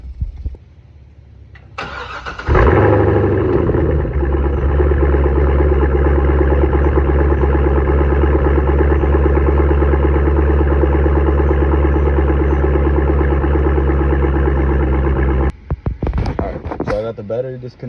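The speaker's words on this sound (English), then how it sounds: "let's go ahead and get you guys a cold start." C6 Corvette V8 cold start: a starter crank, then a loud catch and burst that settles into a steady, deep, rumbling high idle close up for over ten seconds before it cuts off.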